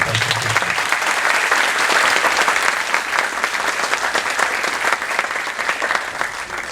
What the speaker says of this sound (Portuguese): Vamos dar mais uma salva de palmas aí.